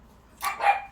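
A pet dog lets out two quick barks close by, the second a bit louder and longer, set against a quiet room.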